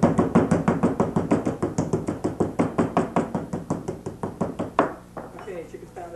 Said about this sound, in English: Okay, chicken's pounded out, throw out the plastic.